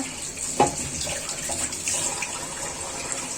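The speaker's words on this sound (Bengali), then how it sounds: "এই যে বাটিটা ধুয়ে নিচ্ছি" Tap water runs steadily into a sink while a bowl is rinsed under it during egg fry cooking, with a small clunk of the bowl near the start and continuous close splashing.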